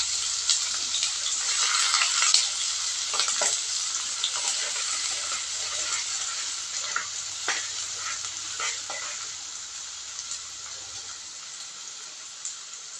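Finely chopped onions with tempering seeds fry in hot oil for a chana dal and potato masala curry, giving a steady, close sizzle with occasional stirring scrapes and no talk.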